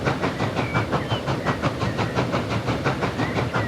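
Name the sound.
steam train in Transport Fever 2, a video game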